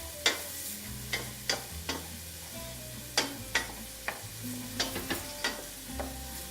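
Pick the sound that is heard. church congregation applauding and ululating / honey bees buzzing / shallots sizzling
shallots sizzling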